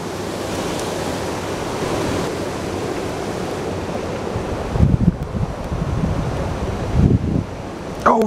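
Steady broadband roar of a waterfall with three streams of water coming down, heard outdoors with wind buffeting the microphone and a few bumps and handling knocks over the continuous rush.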